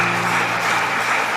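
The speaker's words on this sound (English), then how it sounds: "Please let us give a resounding applause to the inaugural lecturer." Steady applause from a large audience at a university inaugural lecture in Nigeria, a dense even wash of clapping with a faint background hum, brief and continuous with no voices heard.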